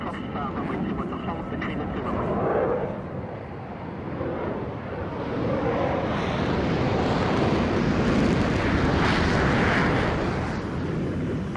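A fighter jet roars during takeoff from Nellis air base, a broad, sustained rumbling jet-engine noise that swells and holds steady, with wind buffeting the microphone and radio-style voices faintly mixed in.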